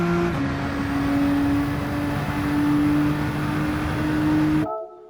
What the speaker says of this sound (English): You hear that fast downshift and then late downshift to first